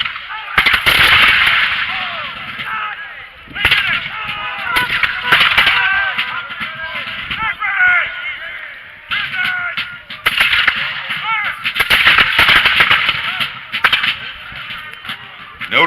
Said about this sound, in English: small artillery piece going off there, ladies and gentlemen